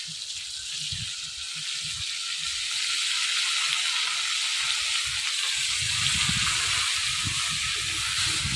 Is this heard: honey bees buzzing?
no